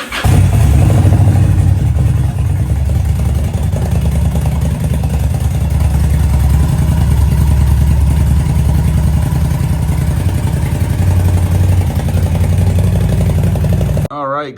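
A Yamaha VStar motorcycle engine starts after an oil change and runs loud and close with a steady throbbing idle and some revving, cutting off abruptly at the end.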